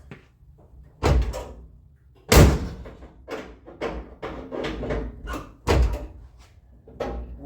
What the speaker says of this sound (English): We got to make sure our inside door handles work.